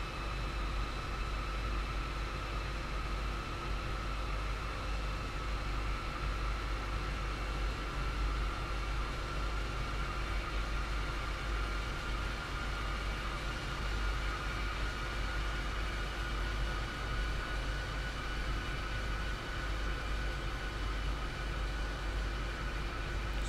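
A train runs steadily in Train Sim World: Rapid Transit, a constant rumbling drone with a low hum and faint tonal whine, unbroken and even for the whole stretch, with no talking.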